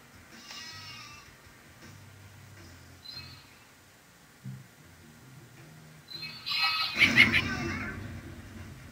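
A sheep bleats in the video game Worms, a faint, wavering cry early on, then a louder burst near the end amid game effects, with quiet voices in the background.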